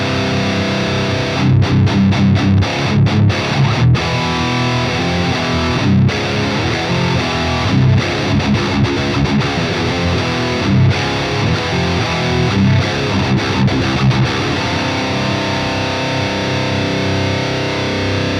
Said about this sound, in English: let's go ahead and just see what the Trivium Rhythm Ampknob sounds like